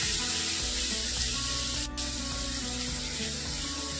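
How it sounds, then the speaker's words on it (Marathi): Onion and tomato roasting in a pan for kaju masala: a steady, close hiss and sizzle that holds even and continuous with no talk over it. "कांदा आणि टोमॅटो आपण भाजून घेतला की हे थोडेसे मऊसूत होतात आणि शिजल्या जातात"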